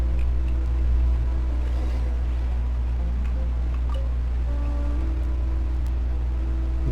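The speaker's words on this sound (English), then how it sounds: "I think I may yet be able to spark function back into this mechanism." A low, loud mechanical rumble drones continuously, with faint clanks and ticks over it, as a water pumping mechanism starts up and runs steadily in Genshin Impact.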